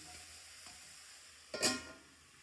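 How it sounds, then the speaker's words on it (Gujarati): Green garlic roasts and sizzles in a pan, a quiet steady hiss. A sharp spitting burst flares briefly partway through, then settles back into the low sizzle. "આપણે શેકાવા દઈશું 1 થી 2 મિનિટ અને ઢાંકી દઈશું."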